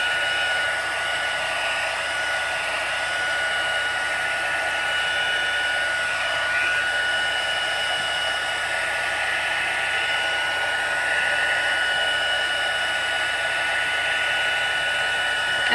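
A hair dryer blows steadily on a freshly stamped card made with Whisper White cardstock, a continuous close whirring hum with a high whine, unbroken for the whole stretch and with no speech.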